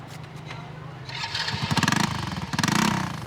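A 100cc motorcycle is fired up on its electric start, the starter whirring briefly before the small engine catches into a sputtering, pulsing idle, close and moderately loud.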